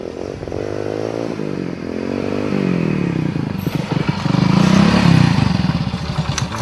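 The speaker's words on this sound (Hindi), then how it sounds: "ले मोटरसाइकिल और जा," A motorcycle starts off and rides away with a loud, close engine whose revs rise and fall in uneven surges, alongside some clattering and no talking.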